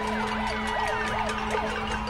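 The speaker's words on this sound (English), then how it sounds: "Right now an ambulance is actually coming by" Ambulance siren wailing in a steady up-and-down sweep, loud and close, as it passes protesters on a highway in Puerto Rico, with a constant low drone beneath and no voices.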